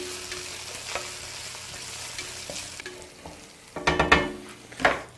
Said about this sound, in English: Just going to stir that round a wee bit.